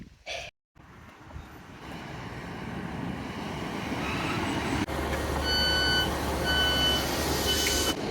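A Class 150 diesel passenger train idles and then rumbles louder as its engine builds, with a steady low drone and repeated beeping tones near the end.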